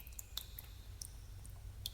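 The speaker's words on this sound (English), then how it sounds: "high pitched dripping just to create a bit of ambience." Quiet cave ambience of high-pitched water drips, scattered single plinks falling irregularly over a low, steady background rumble.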